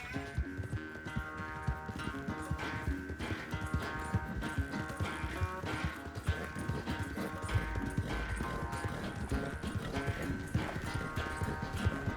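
Horse hooves from the video game Red Dead Redemption 2, a rapid continuous clip-clop of a galloping horse over layered game music, fairly quiet and steady throughout.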